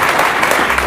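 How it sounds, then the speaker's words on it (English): Audience at a candidate forum giving a round of applause, dense steady clapping filling the short moment. "please join me in a round of applause"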